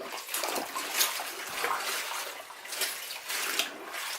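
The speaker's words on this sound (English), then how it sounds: "So I'm just going to sort of rinse this through." Vegetables for guinea pigs and rabbits are rinsed under a running tap, giving a steady close splashing rush of water that rises and falls slightly, with no talking.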